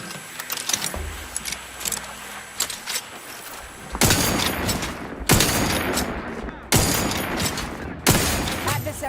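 Gunfire in the sci-fi video game The Outer Worlds: scattered lighter shots at first, then several loud, heavy bursts in quick succession, each with a sharp attack and a short decaying tail, with faint voices underneath.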